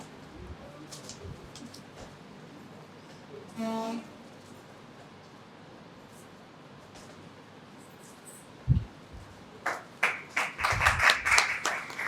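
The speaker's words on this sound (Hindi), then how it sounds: "जोरदार तालियों से स्वागत कीजिए प्रोफेसर मोहम्मद गुलरेज" At a university inaugural session, scattered handclaps start near the end and quickly build into a brief burst of applause to welcome a pro vice chancellor, after a long quiet stretch of light room noise and a few isolated taps.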